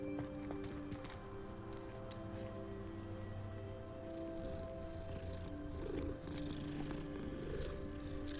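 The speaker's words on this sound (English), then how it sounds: "Petting the cat." A cat purrs steadily while being petted in Hogwarts Legacy, a low continuous rumble under layered game ambience and music, with no talk.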